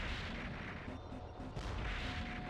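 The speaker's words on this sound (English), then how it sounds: "just blowing up this tank that starts right in front" Video game tank cannon fire lands as heavy booming blasts that blow up a tank. The explosions are dense and loud and run continuously with no clear gaps.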